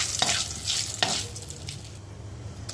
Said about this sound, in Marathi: तेल गरम झालं माझं, हे 5 पुरण टाकते त्याच्यामध्ये